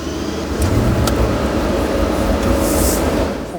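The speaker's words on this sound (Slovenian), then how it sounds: "da vidimo, kako se oglasi teh 12 valjev" The Volkswagen Golf GTI W12 concept's twelve-cylinder engine runs loud and close, a dense, constant roar with a deep low rumble and no pauses throughout.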